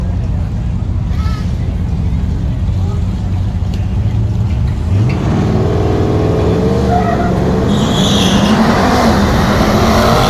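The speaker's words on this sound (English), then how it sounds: "And this time we are going to run against a Mercedes GT63." Engine roar from a RAM TRX and a twin-turbo Mercedes GT63 four-door at a night drag strip, a loud steady drone with a rising rev sweep midway, talk over it.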